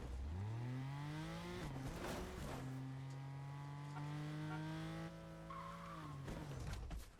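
Video game car engine revving loudly and steadily, its pitch climbing and holding in long sweeping harmonics, with brief tire-skid bursts between shifts and no talking.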